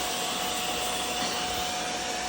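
Steady, close roar of a steam cleaner as its scrub brush attachment works over a mattress, one continuous even rush of noise with no talking.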